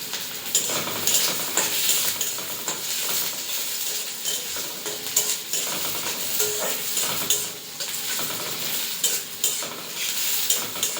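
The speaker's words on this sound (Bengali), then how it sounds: "পেঁয়াজ কটাকে ভাজতে দিয়ে দেবো" Onions fry in a pan with a continuous crackling sizzle, punctuated by repeated scraping and stirring strokes of a utensil against the pan, close and fairly loud throughout.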